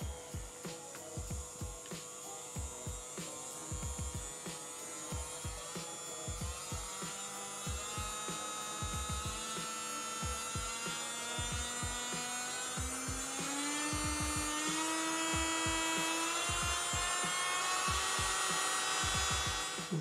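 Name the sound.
Jewhiteny electric nail sander running at up to 35,000 rpm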